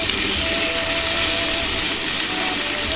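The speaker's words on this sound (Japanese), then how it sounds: "レンジで温めた焼きそばのラップを剥がしフライパンに入れます。" Microwaved yakisoba noodles, freshly unwrapped, dropped into a hot oiled frying pan, giving a steady loud sizzle and hiss that continues evenly throughout with no talking.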